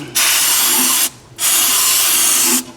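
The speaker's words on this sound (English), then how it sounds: "Taking a little bit of brake clean, I'm just going to spray and dab around the water pump" Two sharp hissing bursts of brake cleaner aerosol sprayed around the water pump of a Jeep Liberty 3.7L engine, about a second each with a short pause between, loud and close.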